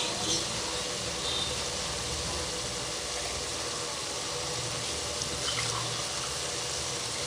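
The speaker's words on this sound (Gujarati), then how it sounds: "તો આપણે હવે આમાં પાણી એડ કરીશું" Water poured into cooked chicken pulao masala in a pot makes a steady, fairly loud rushing gush that runs unbroken for several seconds.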